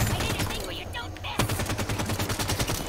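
Rapid automatic gunfire in the Halo 5 video game, dense bursts of rattling shots, loud and close, with a brief lull before a fresh sustained volley of rhythmic firing.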